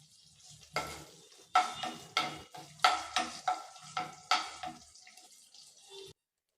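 Curry leaves tempering in hot oil for sambar rice, a close sizzle broken by about eight rhythmic scraping stirs in the pan before it cuts off.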